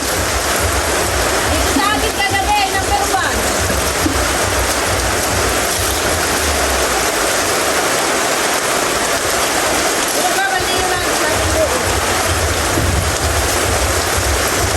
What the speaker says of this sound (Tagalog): At ngayon po may bagyo.